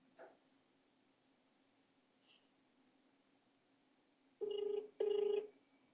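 An outgoing phone call rings back through a handset, two short loud ringing bursts after a quiet stretch with a couple of faint clicks.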